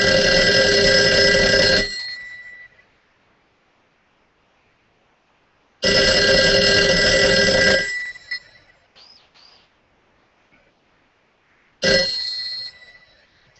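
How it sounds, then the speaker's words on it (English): An old 1940s telephone rings loudly in three long, harsh metallic bell bursts separated by silences, sounding close and piercing, with faint background noise between rings. "I have an old phone from the 40s, and it's very loud."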